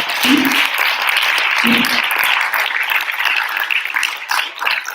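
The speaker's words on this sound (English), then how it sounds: "So now, just for a round of applause for these courageous speakers" Audience applauding speakers at a 2019 MSTC event, a dense steady clapping that fills the space, with brief voices calling out near the start and around the second mark.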